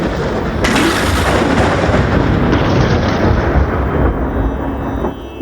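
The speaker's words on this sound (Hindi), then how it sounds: "विद्युतपात के भांति एक ध्वनि उभरी और वह प्रचंड शिव धनुष्य भंग हो गया" Shiva's mighty bow breaking during a Ramayana stage performance at a cultural program, rendered as a loud, thunderous crack followed by a long rumbling roar that slowly fades.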